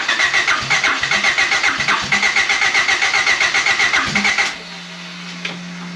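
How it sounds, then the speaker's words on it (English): A car engine fitted with a Fueltech ECU and a cam sensor in place of the old distributor cranks over repeatedly in a steady rhythmic chug without catching, then the cranking stops and only a low steady hum remains. "as you saw, we cranked this over a bunch. We got to putter a few times, but she just would not start."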